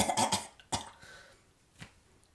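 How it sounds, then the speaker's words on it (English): A person clears their throat with a few raspy, coughing bursts close to the mic, followed by a fainter cough-like rasp after a pause. "Let me just clear my throat."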